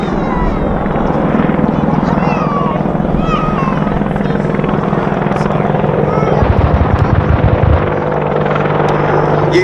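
An AgustaWestland Apache attack helicopter flies at Duxford Air Festival 2019, a loud, continuous rotor thump with turbine whine that throbs more heavily near the end, while a voice talks over it.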